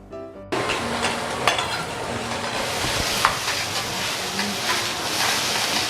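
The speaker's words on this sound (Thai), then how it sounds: "การนำกระเทียมมาผัดกับน้ำมัน" Steady loud sizzling of garlic stir-frying in oil on a hot teppanyaki griddle, with occasional scraping and tapping of a metal utensil.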